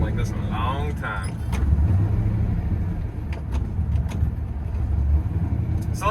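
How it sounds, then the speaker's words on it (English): A 6.0-liter swapped Pontiac GTO engine idles roughly, a steady, close, loud low rumble that holds throughout with slight uneven surges. "I don't trust the car to idle. It might, but it sounds like it wants to die"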